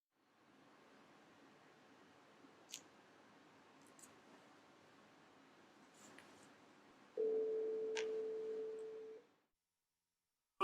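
Telephone line during a cold call: a faint background hiss with a few small clicks, then a loud steady tone holding for about two seconds before cutting out, a brief burst at the end.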